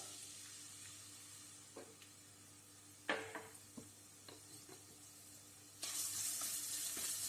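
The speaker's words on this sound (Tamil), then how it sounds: "எண்ணெய் சூடானதும் நம்ம தட்டி எடுத்த அந்த பெப்பர், இஞ்சி அதெல்லாம் போட்டுடலாம்" Crushed pepper and ginger hit hot coconut oil, a quiet hiss with scattered soft clinks and taps, swelling into a louder, brighter sizzle near the end.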